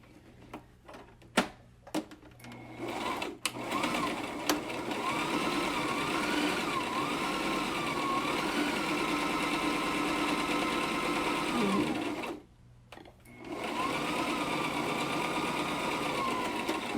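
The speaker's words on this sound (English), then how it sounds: "you're going to sew right along that edge with the pipe cleaner in there" A sewing machine stitches along a fabric edge with a pipe cleaner tucked inside while a cloth medical mask with a filter is made. It whirs steadily and close for long runs, with a brief stop partway through.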